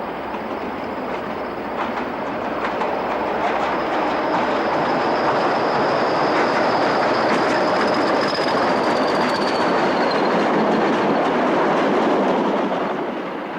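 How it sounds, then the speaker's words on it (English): A pair of Class 20 diesel locomotives hauls an eastbound engineer's train through Melton Mowbray, rumbling steadily and loudly past with continuous rolling wheel noise, clickety-clack and a faint wheel squeal, and no voices. "An engineer's train heads east through Melton Mowbrav."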